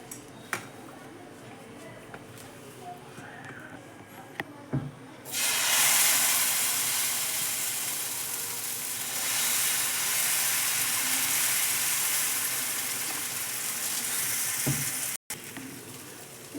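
Ragi dosa batter goes onto a hot tava and an abrupt, loud sizzle bursts out, then continues as a steady hissing fry, with a few soft clinks before it starts.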